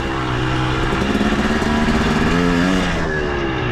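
A dirt bike engine drones steadily as the rider climbs a plateau trail in the evening, a continuous close motor hum with slight shifts in pitch as the throttle changes, no voices over it.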